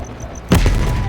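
A sudden loud burst of gunfire in Black Ops Cold War breaks in after a faint ticking background, with a quick cluster of shots ringing out.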